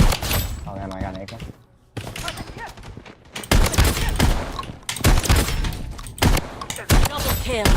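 Rapid bursts of AR-97 rifle fire and shotgun blasts from the video game Project Bloodstrike, loud and dense, coming in repeated volleys with brief pauses between them, while a player talks over the shooting.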